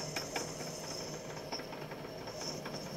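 A radial drill machine runs and drills, making a steady mechanical hum and hiss with faint rhythmic clicking and a high whine, fairly quiet and continuous for a few seconds.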